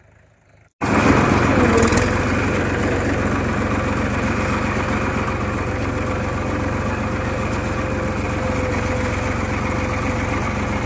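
A loaded vehicle's engine cranks and catches after a brief quiet moment, then settles into a steady, even idle that runs on alone and close by.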